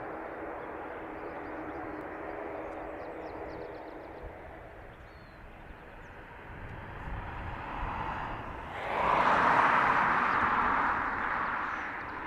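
A Ryanair airliner from Bucharest at Dublin Airport, a broad steady jet roar that swells loudly near the end as the aircraft passes close.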